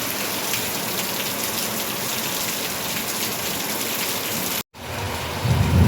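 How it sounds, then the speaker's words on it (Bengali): Heavy rain pours down in a thunderstorm, a loud, dense, continuous roar close by with thunder rumbling underneath, until a brief dropout near the end. "আর এদিকে এত জোরে বৃষ্টি হচ্ছে"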